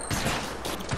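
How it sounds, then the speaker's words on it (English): Video game gunfire rings out in a rapid burst of sharp shots, loud and close, filling the short moment without talk. "Is there people shooting at us?"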